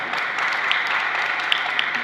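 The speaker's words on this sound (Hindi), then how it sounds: "तालियां भी ऐसे बजाते हो जैसे कि जबरदस्ती में बुलाए गए।" Audience at a religious discourse clapping slowly and without energy, a thin, steady patter of hands with a few sharper claps standing out, no voices over it.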